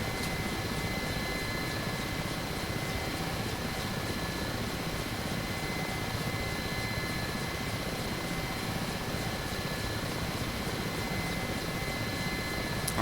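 A Mi-8 helicopter in the DCS World flight game, its turbine engines whining and rotor thrumming in a constant, loud, unbroken drone heard from inside the cabin, with no talking.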